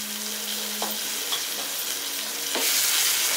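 Onion paste fries in a pan for chole masala, giving a steady close sizzle with a few light scrapes of stirring, then swelling louder near the end.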